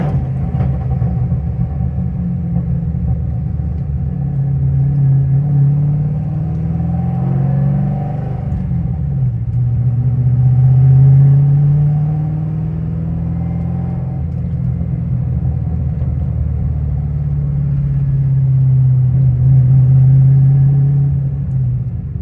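Modified Ford Mustang engine idling and pulling away, a steady deep rumble that swells twice as the car accelerates, close and loud with no talk.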